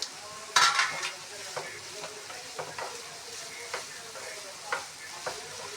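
Green chillies and eggs fry in hot oil in a pan with a steady close sizzle, punctuated by sharp scrapes and taps of a stirring utensil, loudest near the start.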